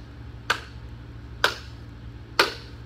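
Three sharp, evenly spaced hand claps in a classroom beat-map exercise, each crisp and close, about one second apart, over quiet room tone.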